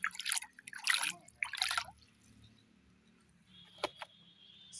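Clean water trickles and splashes over plastic toys being washed. Short liquid bursts come first, then a quiet stretch broken by a couple of faint, close drips.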